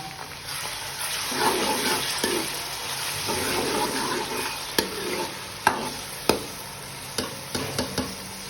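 Ginger garlic paste sizzles and fries steadily in a pan, with occasional stirring scrapes and soft clacks of a utensil against the metal.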